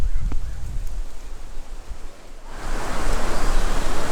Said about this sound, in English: So, good amount of wind.